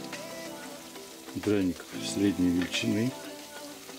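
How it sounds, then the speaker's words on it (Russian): Potato pancakes (draniki) frying in a pan, a steady soft sizzle running under a voice that talks through most of the moment. "Драники наши с одной стороны поджарились"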